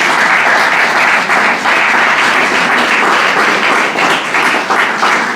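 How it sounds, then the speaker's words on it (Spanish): A church congregation applauds at a worship service, sustained loud clapping from many hands filling the room without a break. "Dale un aplauso al Señor."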